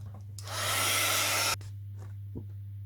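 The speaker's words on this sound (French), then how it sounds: "à l'aide d'un pistolet chauffant," A heat gun melting embossing powder blows a loud steady whoosh for about a second, starting and stopping abruptly, with a low electrical hum underneath throughout.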